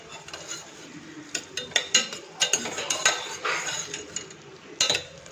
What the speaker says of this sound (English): I'm adding tomatoes.